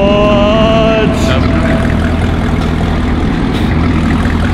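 Steady low engine rumble of a car idling after a remote start, loud and continuous throughout, with brief whistling tones at the start and voices talking over it.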